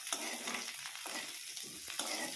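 Onion, chilli and garlic sizzle in hot oil in a pan, a close steady crackle with a few stirring scrapes and no talking.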